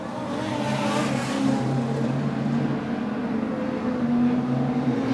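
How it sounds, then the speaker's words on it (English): Race cars lapping Manjimup Speedway give a steady, continuous engine drone that holds at an even level throughout, with no voices over it. "As Cameron McKenzie has gone again for another lap"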